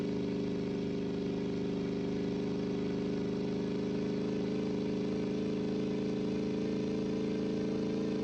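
A 1932 Indianapolis 500 race car engine in a racing video game holds a steady, continuous drone at constant pitch, moderately loud and unbroken with no talk over it.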